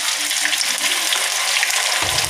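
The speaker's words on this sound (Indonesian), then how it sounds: "Goreng ayam." Chicken pieces fry in hot cooking oil in a home kitchen, giving a loud, dense and continuous sizzle up close, with a faint stir near the end.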